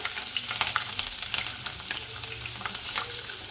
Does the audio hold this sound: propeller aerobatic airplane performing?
no